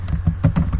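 Typing on a computer keyboard while entering a web address, a quick run of close, crisp key taps with no voices.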